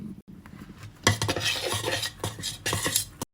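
Thick, almost mayo-like dressing is stirred through a panzanella bread salad in a bowl, giving close, busy scraping and clinking of a utensil against the dish after a brief quiet start, continuing steadily for about two seconds.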